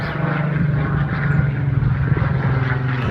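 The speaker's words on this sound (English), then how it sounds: "Comes a spitfire coming over again." A Spitfire propeller aircraft droning overhead in open countryside at Peacock Waters fishing lake in Lincolnshire, a steady distant engine hum holding throughout.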